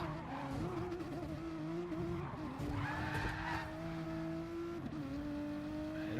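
Race car sliding sideways with tire squeal in Gran Turismo Sport during an FIA Manufacturers round at Tokyo East, engine tones droning and shifting steadily throughout, loud and continuous.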